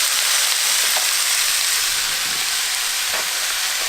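Steady, close hissing sizzle of potatoes and carrots frying in a pan for Filipino menudo, a bright even crackle with faint stirring scrapes and no voices.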